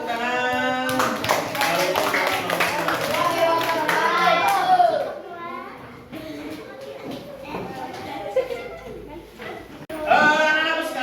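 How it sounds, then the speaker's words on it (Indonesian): Children in a classroom clap together in a short burst of lively applause, mixed with a teacher's talk and chatter, with another round of clapping near the end. "Kasih tepuk tangan sekali lagi buat ketiga kelompok 1, kelompok 2, dan kelompok 3."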